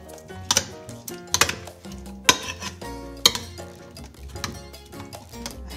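Buttermilk breakfast mixture stirred in a bowl for a healthy breakfast, with a spoon scraping and clinking against the sides in a steady, close rhythm of sharp knocks.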